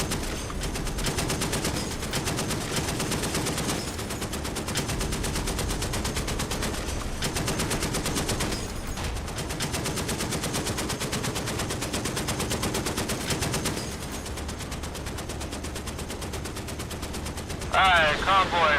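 Sustained aircraft gunfire with rapid bursts and rocket launches in DCS World combat, dense and continuous throughout, with a sharper loud burst near the end.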